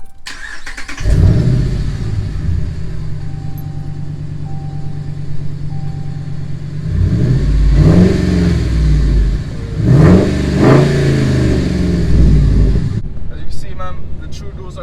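A 5.7 Dodge Ram with a new exhaust fires up and settles into a loud, low idle, then gives a few sharp rev blips, close to the microphone, with someone talking between them.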